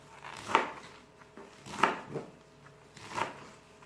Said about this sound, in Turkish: Semizotlarını şöyle demet yaptım. Küçük küçük doğrayalım.